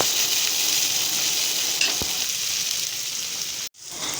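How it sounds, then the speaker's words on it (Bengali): Chopped tomato and onion fry in a pan while being stirred, giving a continuous loud sizzle with a short break near the end. No one speaks. "টমেটোটা দিয়েও বেশ ভালো করে নাড়াচাড়া করে পেঁয়াজের সাথে ভেজে"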